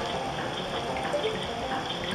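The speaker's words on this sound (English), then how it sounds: "Water!" Running water in a flooded temple in a video game, a steady wash of flowing liquid with faint dripping, alone and close throughout.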